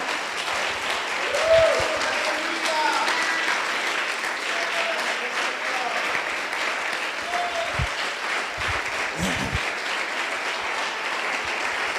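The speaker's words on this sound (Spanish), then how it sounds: "Den un aplauso al Rey con todo su corazón" A church congregation applauds during a Sunday service, continuous dense clapping lasting the whole stretch, with a few faint shouts and voices mixed in.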